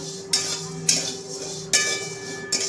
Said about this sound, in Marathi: ही आपण अशी भाजून घ्यायची आहे सतत हलवत